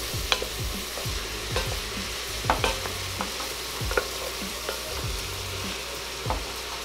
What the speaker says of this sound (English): start adding in your cauliflower florets and kind of get those little charred and sauteed in there as well